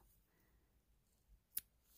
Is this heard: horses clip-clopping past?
no